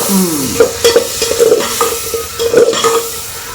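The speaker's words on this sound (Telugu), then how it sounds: "అదే ఆయిల్లో మూడు ఉల్లిగడ్డలు మూడంత ఉల్లిగడ్డలు అయితే తీసేసుకొని మంచి ఫ్రై చేసుకుందాం" Onions fry in hot oil for a village-style gongura and dried fish curry. A close, loud sizzle carries repeated scraping stir strokes and light utensil clinks against the pan.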